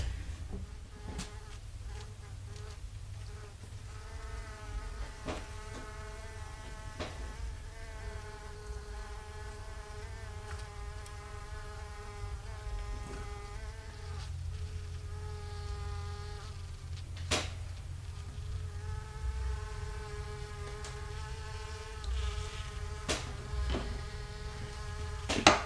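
Honey bees buzz around an open hive in a steady, layered drone that lasts throughout. Sharp clicks and knocks of handling break in now and then, and no one speaks.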